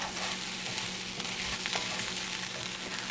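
Korean beef browning in a hot pan, a loud continuous sizzle and crackle of frying meat with faint stirring and no voices.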